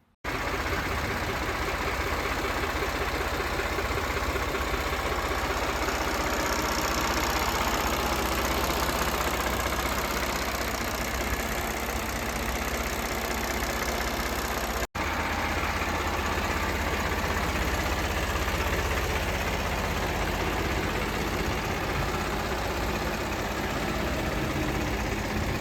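A Solis 5015 E-series 2022 tractor engine idles steadily and loudly throughout, a continuous rumbling chug with no talking over it.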